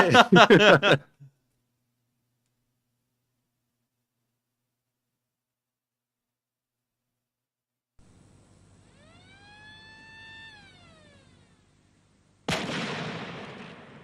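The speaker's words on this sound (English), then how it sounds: "Dude, that's just a cannon." A loud, sharp burst of rapid cannon fire opens, then silence; later a rising and falling tonal whine, followed by another loud blast of noise.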